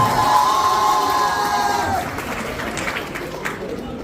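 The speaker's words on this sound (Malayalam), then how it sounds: "നല്ലൊരു ഉഷാറായിട്ടൊരു കയ്യടി കൊടുക്കും." A college crowd claps and cheers for a guest's arrival, a loud, dense wash of applause and shouting voices with a brief high tone fading out midway, continuing steadily throughout.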